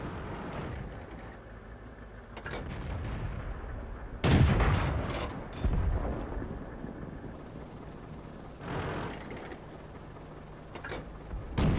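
A howitzer tank fires in the World of Tanks video game, with several sharp booming shots spaced irregularly over a low rumbling battlefield background.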